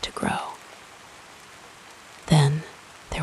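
Steady soft rain ambience, a continuous gentle hiss of falling rain running quietly under a calm voice that speaks at the start and end.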